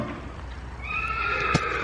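A miniature horse lets out one close, high whinny that rises and wavers for about a second, followed by a brief thump.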